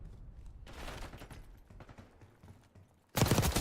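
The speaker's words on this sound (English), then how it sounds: "They get the necessary gunfights here" Gunfire rattles through a competitive shooter video game match, bursts of rapid shots rising midway and then a loud, dense volley at the end.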